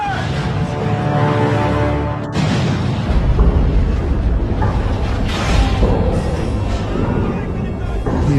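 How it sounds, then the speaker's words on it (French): A depth charge explodes near a submarine, producing a deep rumbling boom and a roaring turbulent wash that lasts several seconds, loud and close, with speech over it. "Grenade sous-marine!"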